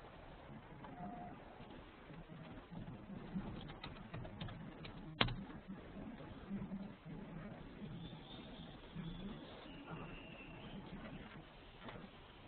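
A computer keyboard is typed on softly in a quiet room, with scattered light key clicks and one sharper tap midway, while faint bird cooing drifts in the background.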